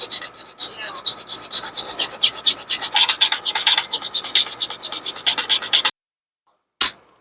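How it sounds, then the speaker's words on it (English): Close, loud rasping file strokes shaping a fitting for a GoTek drive in a TRS-80 Model 4P case, rapid irregular scraping that stops abruptly, followed by a brief final scrape. "we have some more filing to do."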